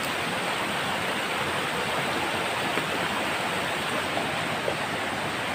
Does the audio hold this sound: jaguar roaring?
no